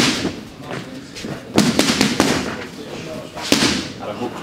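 An MMA fighter throws punches into pads held by a coach in a boxing gym: a quick run of sharp, loud thuds, then a single hit a second later, with talk in between.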